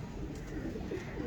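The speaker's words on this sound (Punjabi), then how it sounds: "ਹਲਕੇ ਰਿੰਗਾਂ ਵਾਲਾ ਕਬੂਤਰ ਜੀ" A ringed pigeon at a breeder's loft gives a soft, low cooing phrase, faint and brief against quiet background hum.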